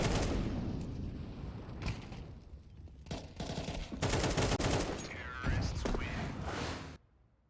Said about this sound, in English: We're seeing some really, really intelligent CS on that B side right now from Case. And of course, some nice headshots courtesy of Snow